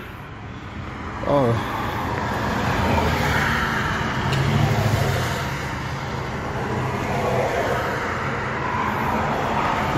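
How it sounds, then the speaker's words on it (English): The diesel engine of a Mahindra Roxor turns over and settles into a steady, continuous idle rumble nearby, with a brief exclamation from a man. "Oh, there goes the motor."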